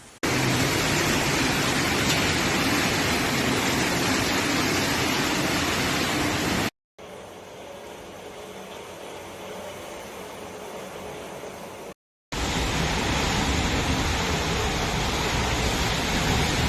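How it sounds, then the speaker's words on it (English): Heavy rain pours down steadily during a severe thunderstorm over Berlin, a loud, dense wash of noise that drops to a softer stretch midway before returning at full strength, with no voices. "A severe storm with thunderstorms and heavy rain swept over Berlin on Monday afternoon."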